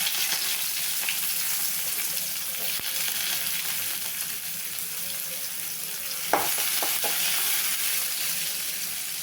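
Onion and fennel seeds sauté in a pan for jackfruit gravy, making a constant bright hiss of frying with a few sharp spatula taps later on.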